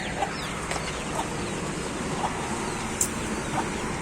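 Chickens cluck softly now and then, a few short clucks spread over a quiet, steady background hiss.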